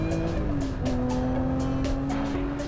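A Lotus Emira sports car being driven hard through corners, its engine holding a steady loud drone with a slight pitch shift and faint tire noise, no talking.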